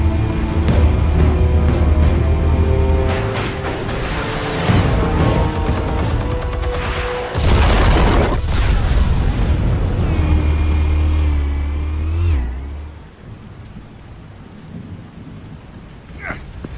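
Explosions in the Batman Telltale game: several heavy booming blasts with deep rumble and crackling debris, loud and close, before fading into a quieter tail.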